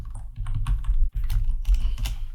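JavaScript code being typed on a computer keyboard: rapid, steady keystrokes close to the mic, with one brief pause partway through.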